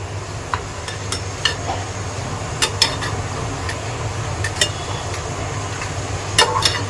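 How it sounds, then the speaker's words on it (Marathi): Chicken being sautéed in masala for a dry chicken dish, a loud continuous sizzle with a low hum underneath, punctuated by sharp ladle taps and scrapes against the pan, close up and with no speech. "मी चिकन टाकून घेतलेलं आहे ते आता मी परतून घेते"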